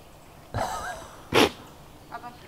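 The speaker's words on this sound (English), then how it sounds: "Hope, you just sneezed all over me." A horse sneezes with a sharp, breathy snort, after a softer earlier exhale and a faint voice near the end.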